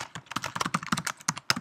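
Rapid, uneven keystrokes on a computer keyboard while entering button labels in a Swift app, close and crisp, with quick irregular clusters of clicks and no talking.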